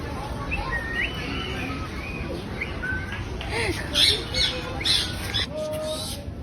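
Several parrots chirp and squawk in short bursts at the Surat zoo, with a few louder shrill calls standing out over a steady background of noise and faint voices.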